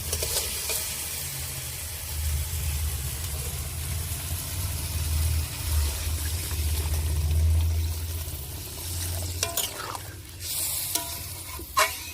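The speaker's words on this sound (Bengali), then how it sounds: "এবারে পরিমাণ মতন জল দিয়ে দেবো" Water poured into a simmering fish curry in a pan gives a steady sizzling, bubbling hiss with a low rumble, lasting about twelve seconds and close by, with sharper clatters near the end.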